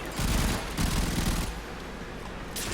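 Grakata rifles in Warframe chatter in rapid automatic bursts, two loud dense volleys close up, then a quieter rattling tail with no talk.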